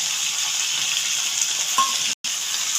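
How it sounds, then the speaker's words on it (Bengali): Spice paste of ground poppy seed, fennel, ginger, cumin and coriander being stirred and fried in a pan gives a continuous close sizzling hiss, with one abrupt instant of silence near the end. "এই মশলাটা দিয়ে আমি একটু নাড়াচাড়া করে নিচ্ছি, একটু কষিয়ে নিচ্ছি"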